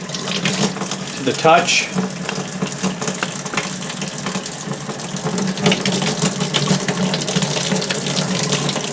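Tap water runs steadily through a VEVOR tankless on-demand electric water heater, a continuous close hiss and splash under brief speech.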